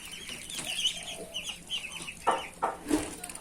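Month-old muscovy ducklings fed on BSF maggots peep and chirp close by, a busy string of thin high cheeps with a few louder calls near the end.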